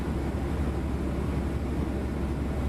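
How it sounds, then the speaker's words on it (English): Steady wind noise inside a light aircraft cockpit in the X-Plane 12 flight simulator, a constant low rushing drone at moderate level with no voices. "And it's still, like, all wind noise you hear."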